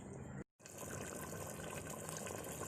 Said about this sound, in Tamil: இப்போது நான் வந்து தேங்காய் பால் ஊற்றிக்க போகிறேன்.